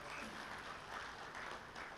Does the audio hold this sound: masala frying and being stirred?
no